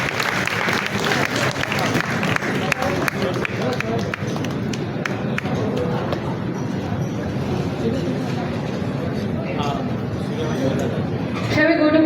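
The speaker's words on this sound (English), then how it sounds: "Can we have a round of applause" An audience claps together in a steady, dense round of applause that fills the room, with a voice speaking over it.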